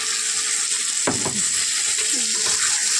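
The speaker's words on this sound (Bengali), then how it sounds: "আলুগুলো ভেজে ভেজে নিই তারপরে মশলা দিয়ে দেবো" Potatoes fry in a pan with a loud, constant hiss of hot oil close by, broken once by a brief knock or scrape of a spatula, with a faint voice murmuring underneath.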